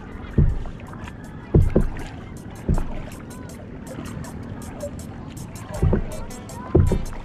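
A wooden racing boat is paddled on water during heavy rain from a typhoon in the Philippines, with rhythmic paddle strokes splashing at irregular intervals over steady wind and water noise, and voices faintly present.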